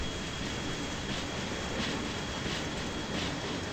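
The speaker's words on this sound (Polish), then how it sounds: "Lokomotywa niech podciąga." In Trainz Simulator 2010, a locomotive pulls a string of train wagons during unloading, giving off a steady, loud rolling rumble of rail noise with no talk over it.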